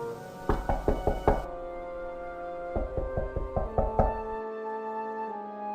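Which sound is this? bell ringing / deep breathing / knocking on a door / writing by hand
knocking on a door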